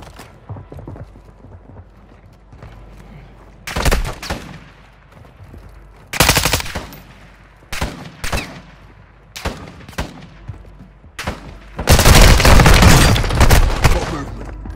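Video game gunfire in a tactical squad shooter: loud bursts and single shots crack out irregularly, growing into a dense sustained volley near the end, over low background rumble.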